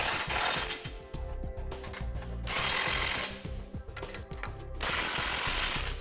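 Flange nuts being snugged down on a Curt front mount trailer hitch receiver, with repeated mechanical ratcheting and tool whirring in bursts, loud and close, without speech.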